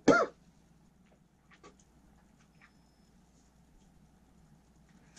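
One sharp cough at the start, close and loud, followed by quiet room tone with a few faint small noises.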